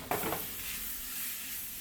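Half a kilo of ground beef sautéing in a pan, a steady close sizzle with a brief stirring scrape at the start, continuous and unaccompanied by talk.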